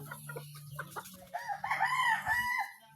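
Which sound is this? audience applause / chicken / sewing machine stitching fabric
chicken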